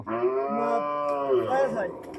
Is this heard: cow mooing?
yes